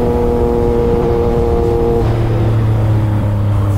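Yamaha MT-09 motorcycle with a loud, barely muffled aftermarket exhaust revving hard inside a tunnel, a steady droning engine note that climbs in pitch partway through, close and loud with no talk.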